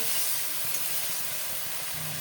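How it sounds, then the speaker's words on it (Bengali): Spice paste of ginger-garlic, coriander, cumin, green chilli and turmeric fries in a pan with a steady, loud, close sizzle and hiss that holds throughout without pause. "মশলাটা একটু ভাজা ভাজা হলে আমি টমেটোর দেবো"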